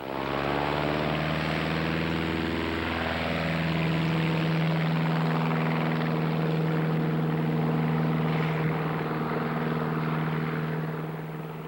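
A propeller aeroplane flies with a steady loud droning engine hum and whirring airscrew, the pitch shifting slightly as it passes, continuous for around twelve seconds with no other sounds.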